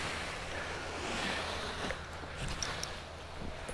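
Strong wind gusts buffet the microphone beside the water while waves wash steadily in the background, a continuous roar with a few brief knocks and no talking.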